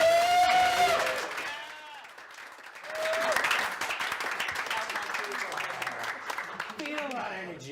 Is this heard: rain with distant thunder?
no